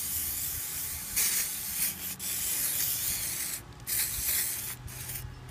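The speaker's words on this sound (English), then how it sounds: "Just to give this thing a good spray" WD-40 sprayed from an aerosol can onto rusty tool bits, several short hissing bursts of varying length close by, with brief pauses between them.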